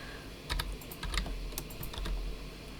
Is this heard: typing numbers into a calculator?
yes